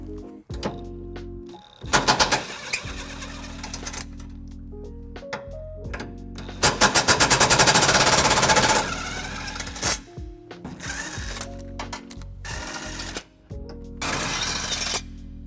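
Tow hook bolts come off the frame of a 2018 Nissan Titan under a power tool, several loud, close rattling bursts of a few seconds each, separated by pauses.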